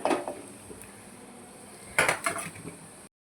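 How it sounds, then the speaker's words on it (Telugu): Fried ivy gourd (donda kaya) tipped into a pan with a bit of turmeric, heard as a couple of clattering bursts of utensil against cookware separated by a quieter stretch. "కొద్దిగా పసుపు వేసాక ఈ వేగిన దొండకాయలను"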